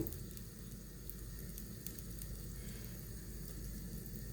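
Oil poured into a hot pan for Tamil-style fish curry, giving a steady low sizzle and hiss that runs evenly without pause, close and fairly quiet, with no voices over it.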